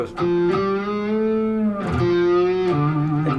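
Sustained distorted electric guitar notes ringing out loudly, with a few picked attacks changing pitch and thick overdriven harmonics.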